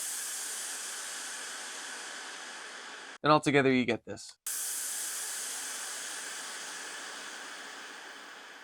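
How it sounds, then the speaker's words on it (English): A reverb-tailed open hi-hat riser built from Casiotone MT-35 toy keyboard samples makes a bright, sustained washing hiss, briefly cut off by a short spoken phrase before the hiss resumes. "So I took the open hi-hat sound and added a lot of reverb tail on it and printed it a few times."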